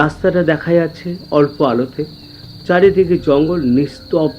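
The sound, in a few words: crickets chirping in a jungle at night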